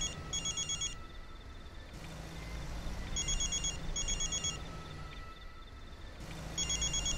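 An electronic telephone ringtone sounds in repeated bursts of high trilling tones separated by short pauses, fairly faint over a low steady background hum.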